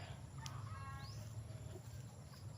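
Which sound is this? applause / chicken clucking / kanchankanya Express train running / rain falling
chicken clucking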